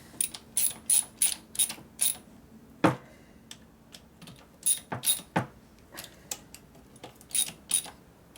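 A ratchet clicks in quick bursts while bolts are tightened on the inner primary of a 1983 Harley-Davidson FXRT Shovelhead, with close, crisp metallic clicks separated by pauses.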